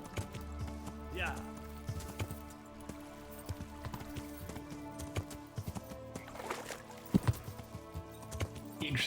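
Horse hooves clip-clopping in the medieval video game Kingdom Come: Deliverance, a faint, steady rhythmic patter beneath game ambience, with a person talking over it.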